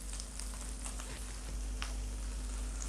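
Turmeric, cumin and red chilli powder sizzle steadily in hot oil for chickpea curry, a continuous close frying hiss with faint scraping as the spices are stirred.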